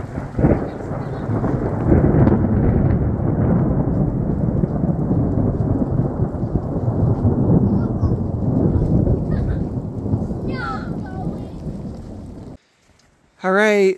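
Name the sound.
rain and thunder at a campsite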